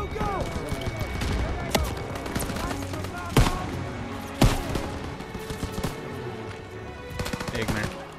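Machine gun fire in Call of Duty WW2 during a battle, rapid bursts and sharp individual shots with a few heavier booms over a busy combat background, with voices shouting orders underneath.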